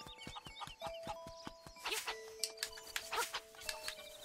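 Chickens clucking in the Zelda Link's Awakening video game: short chirpy cluck blips repeat over a steady game melody, with bright chiming sound effects scattered throughout.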